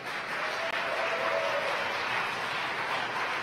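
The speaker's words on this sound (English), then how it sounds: "You can hear the applause at SpaceX." Applause from a smaller crowd of SpaceX staff during a Falcon 9 launch of ten Iridium satellites: steady, dense clapping that sounds somewhat distant and washy, running evenly for about three seconds.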